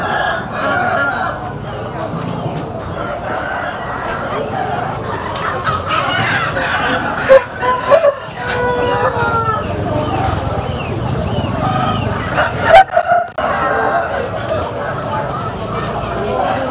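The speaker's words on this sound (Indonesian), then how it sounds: "Dijual berbagai macam jenis ayam di sini." Chickens and roosters at a bird market in Muntilan, Magelang, crow and cluck throughout amid a busy open-air crowd, with nearby voices talking and occasional loud squawks rising over the din.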